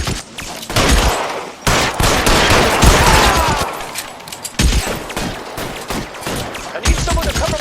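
Rapid, loud gunfire from an L.A. Noire shootout, dense volleys and bursts that crack repeatedly across the scene with brief gaps, close and sustained.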